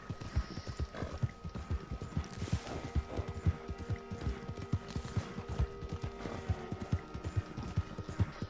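Horse hooves clip-clop in a steady galloping rhythm during a ride in the video game Red Dead Redemption 2, with a brief whinny and no talking.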